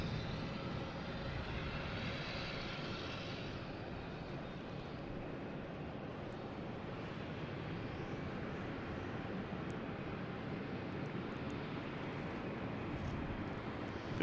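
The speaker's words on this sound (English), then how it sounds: "There's another JetBlue going by here." A JetBlue airliner passes at Boston Logan Airport, a faint, distant, steady engine rumble with a soft broadband hiss that carries on evenly, no voices.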